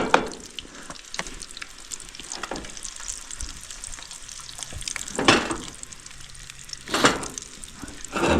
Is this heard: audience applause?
no